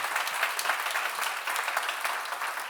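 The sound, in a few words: congregation applauding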